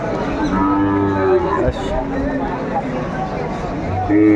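A Sahiwal bull calf moos in drawn-out low calls near the microphone at a cattle market in Meherpur, Bangladesh, with crowd chatter and other livestock noise in the background.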